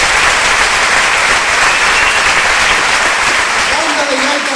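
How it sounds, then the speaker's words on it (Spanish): A loud, dense burst of audience applause at a community arts show featuring a Galician bagpipe band, sustained clapping from a large crowd that tapers slightly near the end as faint tonal sounds emerge. "Por favor, un fortísimo aplauso."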